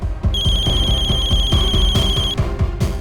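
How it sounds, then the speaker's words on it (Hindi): A telephone bell rings steadily for about three seconds, a bright sustained tone over a pulsing low rhythm, loud and close, with no voices over it. "फोन उठाओ।"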